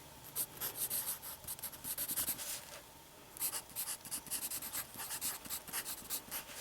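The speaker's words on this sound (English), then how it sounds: "Okay, so I'm going to write that down." Pen scratching across paper in short, uneven strokes while a trim length is jotted down during 45 Colt reloading, faint and close with a brief pause midway, no voices.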